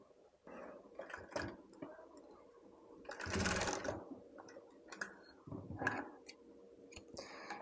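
A sewing machine stitches a frock made from an old shirt in irregular bursts of quiet rattling and ticking, stopping and starting, with one longer, louder run in the middle.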